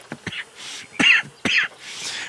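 Arthur Morgan coughs in the video game Red Dead Redemption 2, a few rough, raspy bursts in quick succession, close and fairly loud, with a throat-clearing quality.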